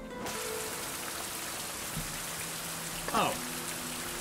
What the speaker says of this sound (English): And then it decides to rain on me right as I start building it